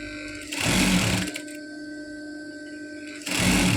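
A sewing machine stitches a pillow cover in two quick bursts of rapid, buzzing needle action. A quieter steady hum runs through the pause between them.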